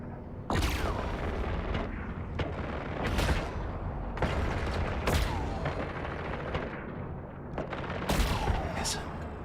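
Spaceship weapons firing in the space game Eve Online, a string of sharp blasts and booming shots spaced irregularly over a steady engine-like rumble, loud and close.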